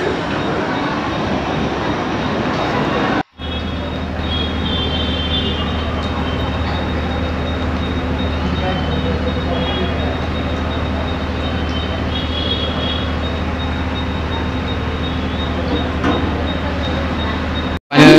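Steady low rumble of a local commuter train arriving at platform 1 of a Mumbai-area station, continuous and fairly loud, with faint squeals and station noise on top.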